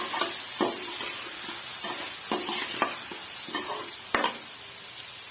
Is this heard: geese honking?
no